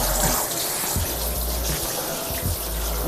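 Tap water runs steadily into a sink while something is rinsed, a constant splashing flow close by with no talk.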